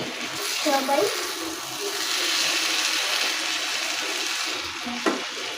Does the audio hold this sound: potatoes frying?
yes